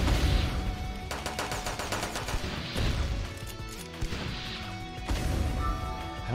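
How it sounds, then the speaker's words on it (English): Ghost cannons fire in a video game, a loud barrage of crashing, gunfire-like bursts with sharp impacts repeating throughout, dense and close. "I don't like wasting ghost cannons."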